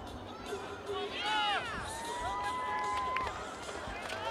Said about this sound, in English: We're going to give her a birthday cheer.